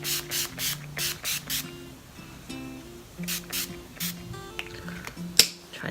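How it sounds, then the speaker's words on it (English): Quick hissing bursts of Urban Decay All-Nighter setting spray, several short pumps in a rhythmic cluster close to the mic, followed by softer rustles and a sharp click near the end. "I'm just going to do a quick spray with this Urban Decay All-Nighter."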